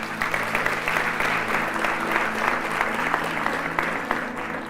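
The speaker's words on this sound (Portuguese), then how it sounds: "Você pode dar um aplauso a ele?" Church congregation applauding during a sermon, steady mid-level clapping with a low hum underneath, even and sustained with no voices over it.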